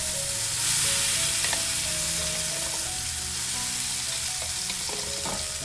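Chopped tomato and green chili crackle into hot oil with mustard and cumin seeds, a loud, close, unbroken sizzle with occasional light spatula scrapes and a low steady hum beneath.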